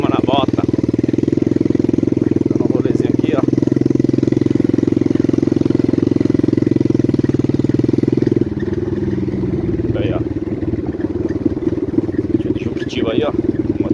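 A mini Honda CRF 100 trail motorcycle runs close by with a steady, loud engine drone that drops slightly partway through, while someone talks over it.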